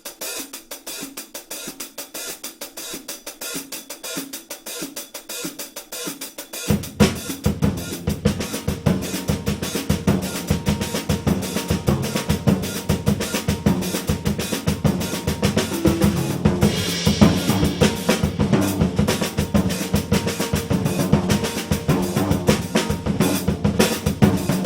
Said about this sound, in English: you open the hi-hat slightly on the E, close it on the and